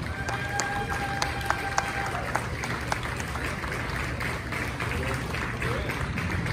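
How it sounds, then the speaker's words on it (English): An audience at a hall of fame induction ceremony applauds, with steady, dense clapping from a large hall continuing throughout, occasional sharper claps standing out, and a faint voice beneath. "Would you clap long enough to get all 722 of them on stage, please, ladies and gentlemen?"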